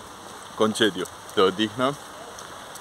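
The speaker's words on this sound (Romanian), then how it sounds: "e atât de bine în ploaie" Rain falls in the city as a steady, even hiss in the background while someone speaks briefly over it in the foreground.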